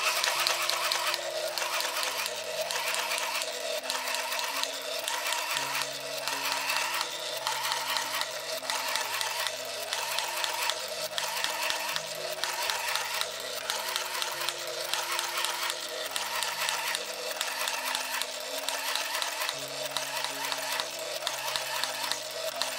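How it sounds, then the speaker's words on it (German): A Sinclair ZX Printer prints a program listing with a steady, buzzing electrical whir that pulses rhythmically line after line. It runs close and continuous for over twenty seconds. "list druckt das aktuelle Programmlisting auf dem Drucker aus."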